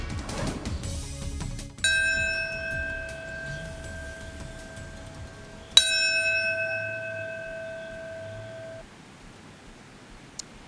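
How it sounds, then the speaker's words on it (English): Solemn bell tolling during a moment of silence at a memorial ceremony in New York: two loud, separate strikes about four seconds apart, each leaving a long, ringing hum that fades slowly. "a solemn bell tolled in a moment of silence at 8:46 a.m. and 9:03 a.m."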